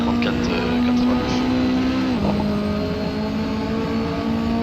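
A Mini JCW racing at Knockhill in Assetto Corsa, a steady engine drone holding one pitch, then dipping briefly and climbing again as the car shifts and accelerates, with faint voices underneath.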